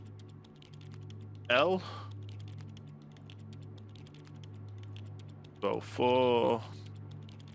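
Keys tap softly on a computer keyboard as bus numbers are entered into a city bus manager game, faint irregular clicks over a steady hum, broken by two short spoken phrases.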